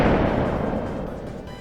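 A single heavy shot from a Halo battle rifle in the video game, a loud close crack with a booming tail that slowly fades away.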